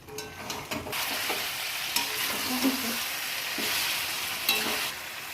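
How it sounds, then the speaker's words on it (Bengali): Chicken frying with onion and spices in a pan, a constant loud sizzle broken by occasional spatula scrapes and stirring knocks, close up with no one speaking. "পেঁয়াজ দিয়ে কষাচ্ছি একদম"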